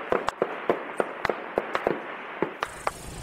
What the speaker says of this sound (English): At times, the gunfire even threatened to drown out an interview I was trying to do with an Indian peasant leader.